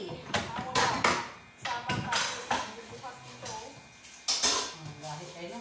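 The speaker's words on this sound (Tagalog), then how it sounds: "dito maghuhugas kami ng pinggan or kaldero" Dishes and cooking pots are washed by hand, with metal clanks and clattering knocks that come and go among splashing water while voices talk over it.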